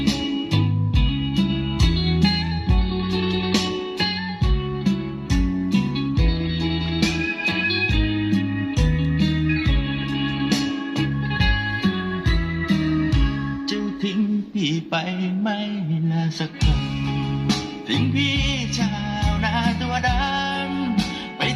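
Music playing through a Sony MHC-V7700 home audio system, a loud, steady track with a strong repeating bass beat and bright upper layers, filling the room continuously without talk.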